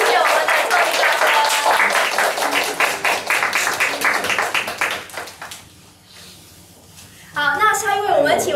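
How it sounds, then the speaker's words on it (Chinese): Audience at a travel retreat summary gathering in Chinese applauding a teacher, with dense sustained clapping that dips briefly before surging again loudly near the end, mixed with cheering voices. "给他特别掌声，谢谢我们的 Tony 老师"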